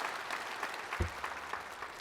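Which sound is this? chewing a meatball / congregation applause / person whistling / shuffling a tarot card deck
congregation applause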